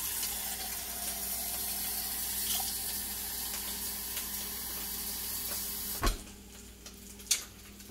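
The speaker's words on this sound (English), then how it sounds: "I'm going to add 2 cups of water" Water runs steadily into a pot holding rabbit meat set on a small metal tray, a continuous near pour lasting several seconds before stopping, followed by a couple of brief clunks.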